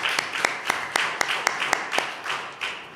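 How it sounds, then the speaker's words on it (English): Applause for panelists at a conference on climate resilience, a sparse group clapping with distinct sharp claps in a fairly regular rhythm, moderately loud and steady, with faint talk underneath. "I think they deserve a round of applause before we go to panel number 2"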